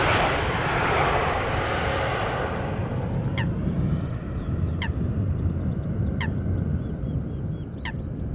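A passenger jet lands at Schiphol Airport without reverse thrust, its roar loud at first and then fading to a distant rumble, with geese calling several times nearby.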